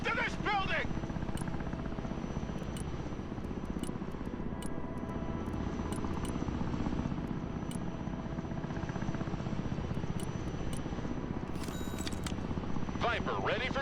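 Military helicopters hover and fly in the Broken Arrow war strategy game, a steady dense rotor and engine roar throughout, with brief radio chirps and game effects layered on top.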